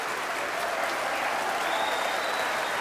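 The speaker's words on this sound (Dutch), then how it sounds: "dat applaus dat gaat hier waarschijnlijk nog wel even door" A concert hall audience applauding after a Haydn oratorio performance, dense sustained clapping from a large crowd, even and continuous throughout.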